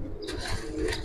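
Low cooing from a female Palla line Giribaz pigeon in a loft, one short soft burst of throaty murmur with a brief rustle, close and moderately quiet.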